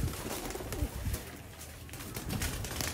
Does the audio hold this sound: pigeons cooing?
yes